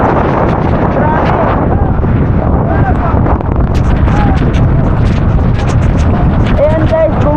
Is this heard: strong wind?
yes